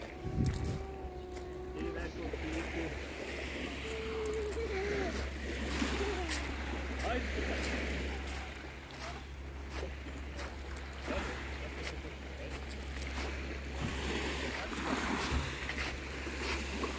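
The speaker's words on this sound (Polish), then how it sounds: "Szum wody, piękny kolor, ciepełko." Steady rushing of water and surf near the shore at a beach in Promajna, Croatia, in the morning, with wind buffeting the microphone and faint voices in the background.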